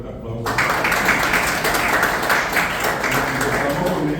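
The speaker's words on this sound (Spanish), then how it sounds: "Así que vamos a dar una fuerte aplauso." Audience at a university literature event breaking into applause for an award-winning writer, a steady wash of clapping starting abruptly and continuing evenly at moderate volume.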